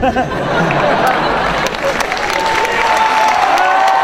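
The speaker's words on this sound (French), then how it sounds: "les applaudit très très fort" Loud audience applause with some cheering at a French Zelda Twilight Princess cosplay group performance, a dense continuous wash of clapping from a large crowd in a hall.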